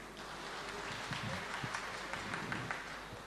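An audience at a Bengali stage event claps for a filmmaker walking on stage. The applause is faint and scattered, with distinct claps over a soft, distant hum.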